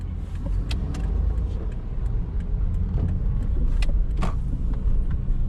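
A used 2008 Vios car engine rumbles steadily and low while driving, with scattered rattles and clicks from the cabin and no voices.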